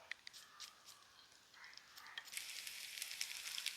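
Shallots, dried red chillies and curry leaves frying in ghee for a Kerala pulissery tempering, a faint, soft crackling sizzle with scattered pops that grows denser toward the end.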